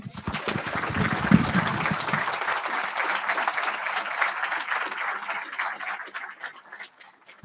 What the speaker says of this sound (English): Can we give Foxy another gigantic round of applause?